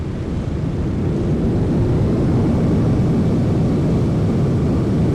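An airliner applies reverse thrust during its landing rollout on a narrow, sloping runway at Juana Azurduy Airport in Sucre, Bolivia, a loud, sustained engine roar that builds and holds steady throughout.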